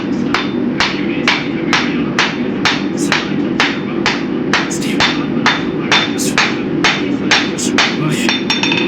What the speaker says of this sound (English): I try to hammer in like a 45-degree bevel right here at the tip.